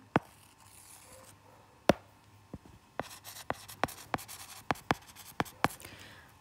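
Chalk or marker writing on a board in a classroom, a series of sharp, distinct taps and strokes, sparse at first then coming in a quicker steady rhythm, close and fairly quiet with no talk.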